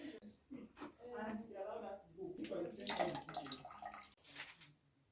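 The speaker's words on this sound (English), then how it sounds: "so you just take the water and add it to your drink" Water poured into hibiscus zobo drink, splashing and trickling steadily for several seconds, up close and moderately loud, ending with a short drip.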